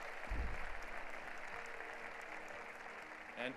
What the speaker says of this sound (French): Applaudissez-les, ils ont été beaux joueurs.